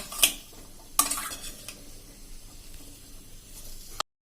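Grated carrots and milk being stirred in ghee for carrot halwa, a spoon clattering against the pot in a few sharp scrapes and knocks over a faint low sizzle, with no talking.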